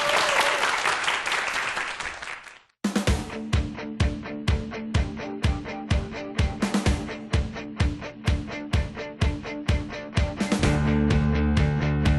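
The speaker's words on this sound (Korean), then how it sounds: "여러분들 큰 박수로 청해 듣겠습니다." A lecture audience bursts into loud, dense applause for a couple of seconds, then a sharp cut leads into steady rhythmic music with regular beats.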